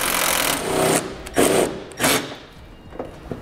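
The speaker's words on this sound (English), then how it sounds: "Then we'll remove the bolt at the top here where our fender meets our fascia with a 10mm" Socket wrench with a 10mm socket removing a bolt where the fender meets the fascia on a 2009 Pontiac G6: a few short, rough mechanical bursts of ratcheting and grinding, close and fairly loud, separated by brief pauses.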